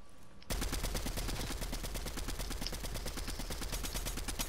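Rapid automatic gunfire in an online battle royale shooter game rattles continuously in fast, evenly spaced bursts, loud and sustained with no talk over it.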